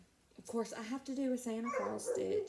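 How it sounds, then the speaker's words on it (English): A household's dogs, a big German Shepherd puppy and a cockalier, whimper and yip faintly in the background while a woman keeps chatting over them. "please excuse my dogs"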